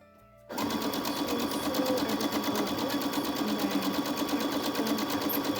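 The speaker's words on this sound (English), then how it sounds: "So here's a time lapse of me sewing the sheer daisy mask." A sewing machine stitches a sheer daisy-print fabric mask, starting abruptly after a brief quiet moment and then running in a fast, steady whirring rattle close by, with no talk.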